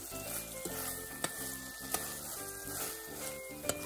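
Beef sizzling on low heat in coconut milk and red curry paste for a Thai red curry, a steady close bubbling fry with a few sharp spatula clicks against the pan.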